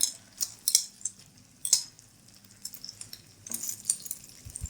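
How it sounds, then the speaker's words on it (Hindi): A spoon clinks and scrapes in a pan as chicken kababs dipped in egg batter fry over medium-low flame, giving light intermittent metallic taps and clatters with a soft sizzle underneath, and no voices. "चम्मच साथ साथ हिलाते जाएंगे"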